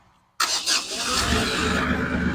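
After a short quiet pause, a Kioti tractor engine cranks and catches suddenly, then settles into a loud, steady running rumble close by.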